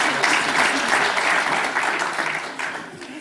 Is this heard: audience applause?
yes